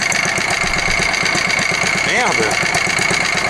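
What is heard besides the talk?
Bernard engine idling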